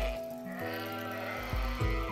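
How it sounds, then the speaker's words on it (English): Little lambs in the video game SCHiM give several short, wavering bleats in close succession, clear and fairly near over a steady game music bed. "Oh look, some little lambs."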